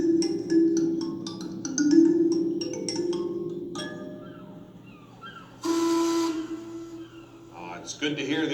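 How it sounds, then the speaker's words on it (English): A low mine steam whistle blows in long, steady blasts with a loud hiss of steam partway through, while people talk nearby. "It's good to hear the old mine whistle blow again"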